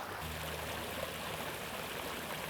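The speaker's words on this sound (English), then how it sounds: "I got a creek right beside me here with a little tiny little waterfall" A small creek spilling over a tiny waterfall, a steady close rushing and trickling wash of water, continuous and even throughout with no voices.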